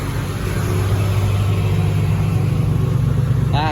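A dump truck's engine roars loudly and steadily at high revs, a dense, continuous mechanical drone that holds throughout with a brief rising whine at the very end.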